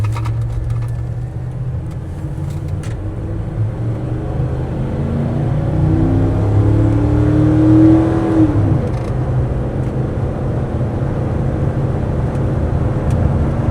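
A 1995 Ford F150 Eddie Bauer 4x4 with a 5.0 V8 and 4R70W automatic, heard from inside the cab under way, a steady low engine drone and road rumble that rises as it accelerates midway, then settles.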